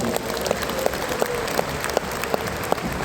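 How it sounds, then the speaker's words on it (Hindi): An audience at an RCM celebration meeting claps together in a sustained, even roar of applause, with a few sharper individual claps poking through the steady wash. "दोनों हाथ ऊपर करके एक बार अपने आप के लिए ताली भी बजा दीजिए"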